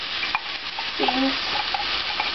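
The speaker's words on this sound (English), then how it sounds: "Adding some black beans. Cooked or canned." Black beans, cooked or canned, tipped into a hot pan and stirred, giving a steady sizzle with scraping stir strokes, close and fairly loud, no talking, part of a Mexican lasagna.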